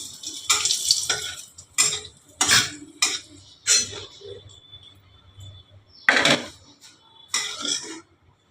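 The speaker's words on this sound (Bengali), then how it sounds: "এবারে আমি এই শুকনো লঙ্কাগুলো ভেজে তুলে দেবো।" Dried red chillies frying in a pan, with bursts of spoon clatter and scraping against the metal between quieter stretches of faint sizzling, close by.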